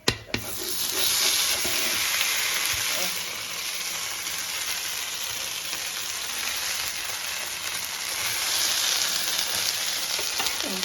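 Turkish-style anchovies with sauce fry in a pan, giving a steady broadband sizzle that runs through the whole clip with slight swells, close and fairly loud, with no talk over it.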